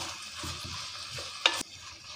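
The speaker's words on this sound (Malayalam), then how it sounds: "ഒരു കപ്പ് ചെറിയ ഉള്ളി കുറച്ച് കറിവേപ്പില ഇട്ടിട്ട് നന്നായി വഴറ്റിയെടുക്കാം" Green chillies, shallots and curry leaves are sautéed in a pan for Angamali-style pork and koorkka, making a soft, faint sizzle with a few gentle stirring scrapes and one brief louder clatter.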